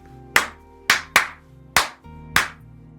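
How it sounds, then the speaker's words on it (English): Five sharp hand claps from one person in a short uneven rhythm, close and clear over a faint steady background hum, with no talking. "So I'm going to do my little clap."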